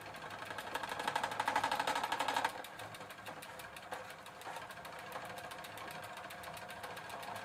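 Drivetrain of a nineties Gazelle Maxinette bicycle shifting into third gear, a busy mechanical whir of spinning cranks and chain with a louder burst early on that settles into steady ticking.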